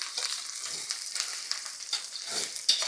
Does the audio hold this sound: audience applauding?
no